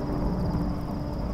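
A thunderstorm rumbles in the Tomb Raider video game, a steady, dense low roar that holds at an even loudness throughout with no clear single crack.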